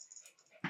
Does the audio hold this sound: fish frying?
no